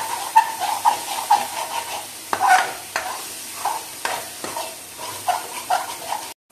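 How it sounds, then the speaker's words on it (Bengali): Frying masala for a fish muitha curry sizzles and hisses loudly in a pan as water goes in, with a spatula scraping and clinking through the steam at irregular intervals, close by and without speech. "এবার আমি এতে জল দিয়ে দেবো"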